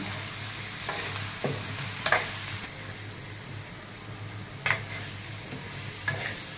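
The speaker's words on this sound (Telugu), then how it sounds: "కారం వేసి ఒక వన్ మినిట్స్ ఆయిల్లో ఫ్రై చేయాలి బాగా" Chili powder fries in hot oil for an egg curry, with a soft steady sizzle under a few sharp scrapes and clinks of stirring in the pan.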